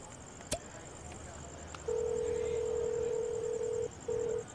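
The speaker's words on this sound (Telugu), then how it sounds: "చెయ్యి ఫోన్ చేయి." A telephone being dialed in a Telugu movie scene: one sharp click, then a long steady keypad tone and a short second tone, fairly loud over a faint background hum.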